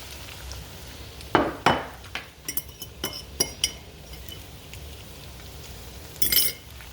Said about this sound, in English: I just want to mix it around.